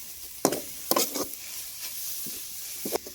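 Carrot and semolina being stirred in ghee in a pan, with a soft steady sizzle and a few distinct scraping stirs of a spoon, close and fairly quiet, with no talking.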